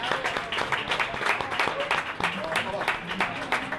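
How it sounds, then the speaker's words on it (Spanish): Audience applause at a carnival duos-and-trios singing contest in Tarifa, a steady wash of many hands clapping with shouts and voices mixed in throughout. "Un aplauso."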